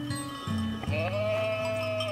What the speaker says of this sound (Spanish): Mientras, Abel se dedicó a cuidar de las ovejas